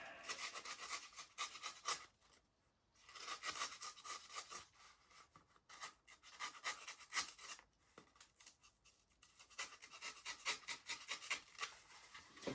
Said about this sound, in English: Just slice away at it, like slicing a sandwich.